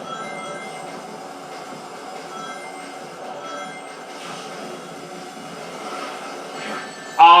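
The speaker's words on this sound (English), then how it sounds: "you do have to be very careful with the trains that come by in some sections of it" Trains rumble past in a Sonic Heroes–derived stage of a Sonic X Shadow Generations game, a sustained metallic rolling drone with tonal hum that fluctuates over several seconds, then ends in a sudden louder chime-like hit.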